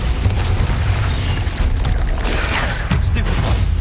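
A Bombarda spell explosion in Hogwarts Legacy, a loud, dense booming blast with rumbling low end and crackling debris that fills the whole short moment.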